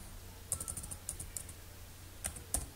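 Brief bursts of typing on a computer keyboard, a few quick close key clicks followed by a sharper tap like the enter key, heard alone.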